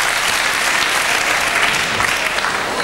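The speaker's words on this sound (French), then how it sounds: "très applaudi bien entendu." Spectators at a 2005 gymnastics memorial competition applaud a Swiss gymnast's floor routine, a dense, continuous roar of clapping that stays loud and even from start to finish.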